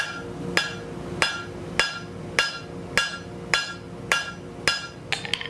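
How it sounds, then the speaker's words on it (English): Hammer blows on hot steel at a forge as the back of a piece is drawn out into a lug: nine sharp, ringing strikes at a steady rhythm, close and clear, then a quicker flurry of lighter taps at the end. "we are going to hammer at the back and just draw out a lug of material"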